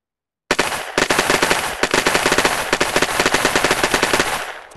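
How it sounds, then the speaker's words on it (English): Rapid automatic gunfire in a VR physics sandbox game, a dense, continuous stream of loud shots with brief breaks, close and dominant over everything else, with no talking. "Oh, they're already shooting."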